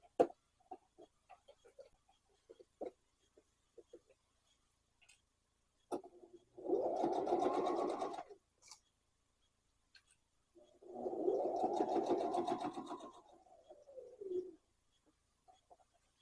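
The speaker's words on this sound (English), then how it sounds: "back stitch at the beginning and end, and then sew this bad boy close." A sewing machine stitches a wallet in two bursts of a few seconds each, a soft, fast whirring run separated by quiet pauses and scattered small clicks.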